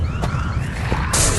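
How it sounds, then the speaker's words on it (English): An alarm wails in an audio drama, a loud, steady siren-like tone with rising and falling sweeps that fills the short moment, joined by a brighter burst near the end. "How can you hear anything over that alarm?"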